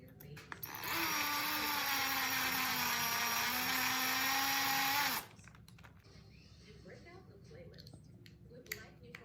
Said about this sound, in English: When you run these screws in with a power driver, just run them in a little bit snug